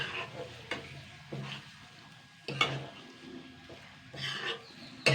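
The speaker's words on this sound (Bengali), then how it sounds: "মাছের তেলটা দিয়ে ভালো করে ভাজতে হবে" Fish fat fries in a pan over medium heat with a low sizzle, broken by several loud scraping stirs and clanks of a spatula against the pan.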